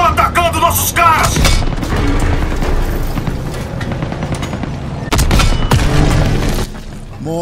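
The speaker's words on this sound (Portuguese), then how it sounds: "Tiros de armas leves! Estão atacando nossos caras!" Small arms gunfire crackles in the Call of Duty WWII video game, a loud urban infantry firefight with rapid rifle and machine gun bursts and booming shots, sustained throughout.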